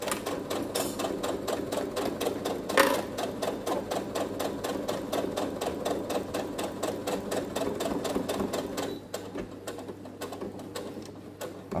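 A domestic sewing machine stitches fabric for a small drawstring pouch, a fast, even mechanical clatter with a steady motor hum, heard close, briefly slowing near the end before picking up again.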